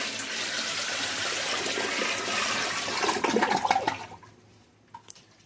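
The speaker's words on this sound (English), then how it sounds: "so we can flush the toilet with it" Stored water is poured into a toilet bowl to flush it during a power outage, giving a loud sustained rush of water for about three seconds, then a gurgling drain that dies away, with a brief splash near the end.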